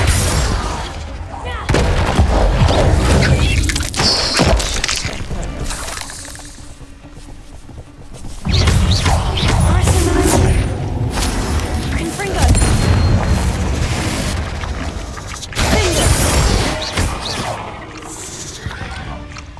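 Confringo fire spells in Hogwarts Legacy go off as repeated loud, booming explosions in rapid, irregular bursts, layered with crashing impacts and combat noise. A voice talks over parts of the fight.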